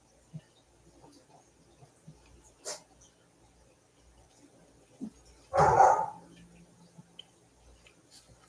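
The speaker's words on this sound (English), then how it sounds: "they're going to start doing the barky dog shit" Dogs bark in the distance in a quiet setting around midday, with one louder, closer burst of barking standing out amid scattered faint sounds and brief noises.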